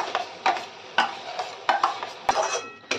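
Mashed boiled chickpeas being stirred with masala and chicken in a pan, a spoon scraping in repeated strokes about every half second over a soft, steady sizzle.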